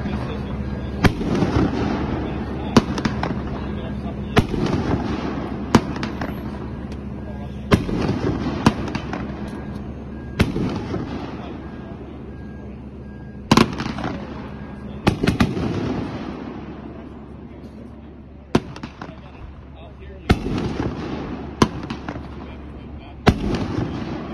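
Consumer 1.4G firework cake called Bad Hair Days fires 11 shots at a demo, each a sharp report arriving every second or two at moderate distance, with crowd voices talking underneath.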